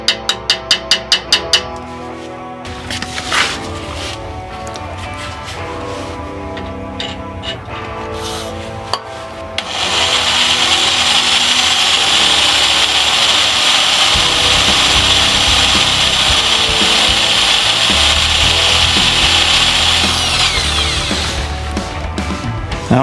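Power drill boring a slightly off-centre hole: a few sharp knocks and a stop-start whir at first, then a loud, continuous grinding whine that holds steady for over ten seconds, close up with no voices.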